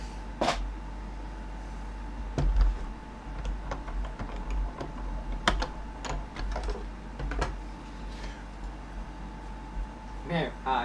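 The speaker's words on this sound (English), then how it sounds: "let's just die cut another one quickly" A die cutting machine runs a papercraft shape through, giving a series of close, sharp clicks and ticks spread irregularly over a steady hum, with some quiet talking underneath.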